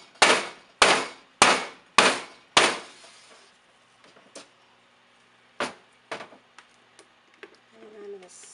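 A soap mould of cold process handmade soap is smacked down on a surface five times in a steady rhythm of loud, sharp knocks, then quieter scattered taps follow.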